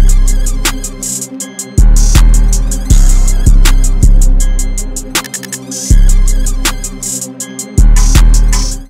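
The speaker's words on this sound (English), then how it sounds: "I got this open hat from my drum kit once again, and I basically put it on the beginning of every 4 bars" A Chicago drill beat made in FL Studio pairs booming 808 bass hits with a busy hi-hat pattern, plus an open hi-hat splash from a drum kit at the start of each four-bar phrase, loud and repetitive.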